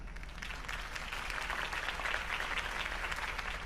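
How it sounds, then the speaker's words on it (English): A crowd applauds after a campaign speech in the Batman Telltale video game, a steady wash of clapping from many hands that holds at an even, moderate level throughout. "could have heard that applause"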